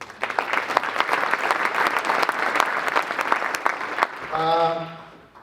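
Studio audience applause on a commercial real estate talk show, a full burst of many hands clapping for about four seconds before fading, followed by a short sustained musical tone.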